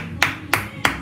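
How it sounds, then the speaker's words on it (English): Three separate claps land at a steady pace during a student achievement celebration, each one short and fairly close over a low background hum. "Let's give them a round of applause."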